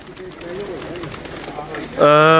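Rooftop pigeons coo in soft, low rolling calls close by, with a person talking over them before a loud, steady harmonic tone cuts in near the end.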